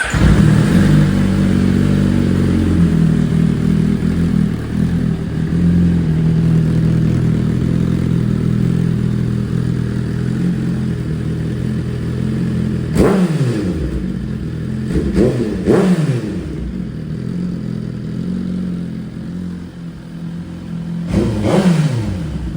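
Suzuki GSX-R motorcycle engine running with a steady close idle, then several sharp revs late in the recording rising and falling, loud with no talking.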